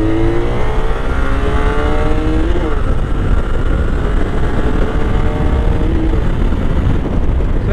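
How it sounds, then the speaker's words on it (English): A Honda Magna 750 muscle cruiser motorcycle accelerates hard, its smooth, high-revving engine climbing through rising sweeps that dip at each gear change, loud and close throughout with no talking. "it's a very high revving bike"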